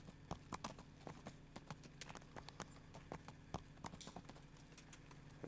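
Horse hooves clip-clopping in the medieval video game Kingdom Come: Deliverance, a steady run of sharp, evenly paced hoof clacks heard close and alone.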